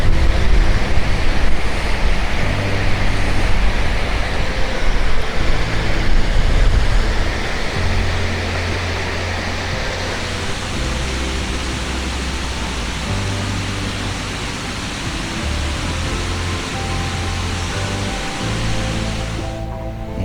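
Steady rushing water from a small river waterfall at Mill Race Village in Northville, Michigan, a continuous broadband roar with some wind rumble, loud and close throughout.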